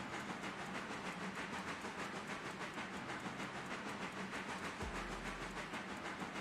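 Log train running in a railroad video game, a steady rumbling rail drone with rhythmic clicking and hiss that holds evenly throughout, joined near the end by a low hum.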